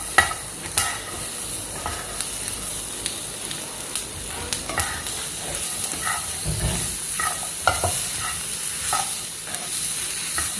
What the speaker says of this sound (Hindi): हो गई हमारी वेजिटेबल सौते।